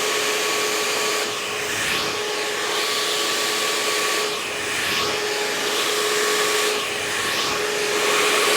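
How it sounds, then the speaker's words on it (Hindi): A hair dryer blow drying hair during a brush styling session, a steady close whooshing roar with a constant motor whine, its airflow swelling and dipping rhythmically as the dryer moves, with no talk. "and then you will start the blow dry"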